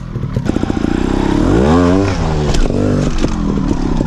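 A trial motorcycle in second gear drops down a step and turns, its engine loud and close, revving and rising in pitch, with tyre scrapes and clatter as it lands.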